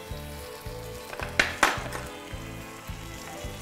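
Onion and crushed garlic fry in a pan, a steady sizzle carrying a few louder crackling bursts and soft stirring scrapes, with no voices.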